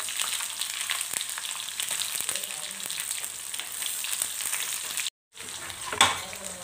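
Chopped onion frying in oil with fresh curry leaves and a spoonful of cumin for idli sambar, giving a steady, dense sizzle with faint stirring clicks, briefly cut off near the end before the crackle returns.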